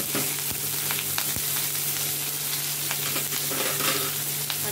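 Curry leaves and onion sizzle and crackle in hot oil in a pan while tempering for a bottle gourd (lauki) dal, a steady close frying hiss with a few sharp pops and stirring clicks.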